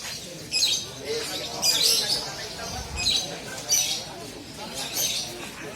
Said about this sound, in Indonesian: Luar biasa, burung-burung mewah.